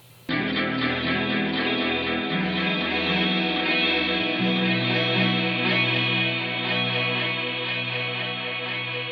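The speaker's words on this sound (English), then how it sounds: "you can get this really interesting kind of vintage washed out sound with using all three of these effects" Safari Pedals Fox plugin layers sound-on-sound looping with echo and chorus into a sustained, washed-out wash of repeating tones after a sudden start, loud and dense throughout with no speech.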